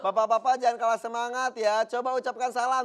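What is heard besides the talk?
No everyday noise stands out behind the speech.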